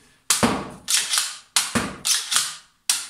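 Replica revolver dart blaster fired empty, six sharp snapping cracks spaced irregularly over a few seconds, loud and close with no talking.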